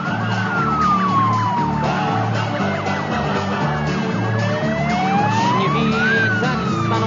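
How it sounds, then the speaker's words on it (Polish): A volunteer fire brigade siren in a Polish village, switched on remotely, wails loudly and steadily with slow rising and falling sweeps over a dense, continuous background. "a ta zdalnie włącza syrenę na wsi"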